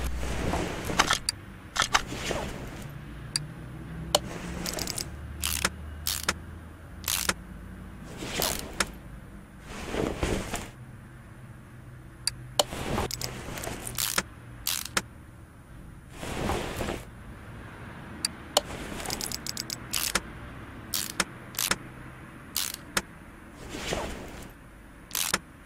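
Drivetrain parts being fitted to a car in Car Mechanic Simulator 2018, a rapid series of sharp clicks, clunks and ratchet-like snaps in irregular bursts over a low background hum.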